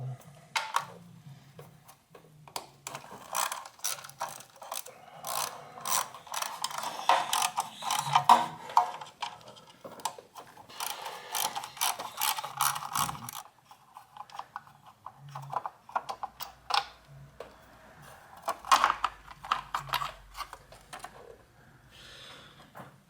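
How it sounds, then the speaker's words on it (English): A 10 millimeter ratchet wrench loosens a coil bolt on a 2003-2007 Honda Accord engine, making quick bursts of close ratcheting clicks with pauses and quiet mechanical handling noises between strokes. "So it's a 10 millimeter wrench, and then I'll just go ahead and loosen that,"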